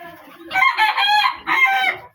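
Desi chickens on a poultry farm: close rooster crowing in two long, loud calls, with clucking from the flock beforehand and no talk.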